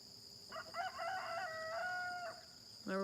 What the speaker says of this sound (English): My roosters are starting to crow.